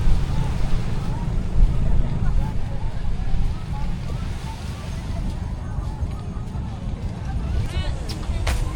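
Steady wind rumbles and buffets the microphone throughout on a sunny day at Anawangin Cove, with voices faintly underneath.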